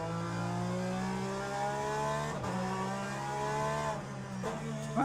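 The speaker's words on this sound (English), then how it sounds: "Now we got the hypercar coming too." A hypercar racing at Spa in the Le Mans Ultimate video game gives a steady, buzzing high-revving engine drone that stays loud throughout, with brief pitch dips at gear changes and no talking.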